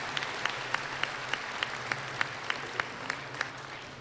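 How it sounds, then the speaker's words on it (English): Audience applause at a fall 2009 university commencement ceremony, a steady wash of many hands with a few sharp claps standing out rhythmically, moderately distant and fairly soft. "Please give them a round of applause."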